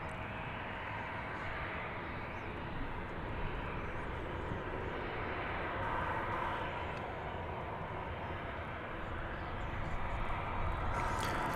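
An American Airlines Boeing 737-800 jet bound for San Antonio, Texas, at Dallas Fort Worth Airport, its broad steady engine roar holding level for the whole stretch with faint talk underneath.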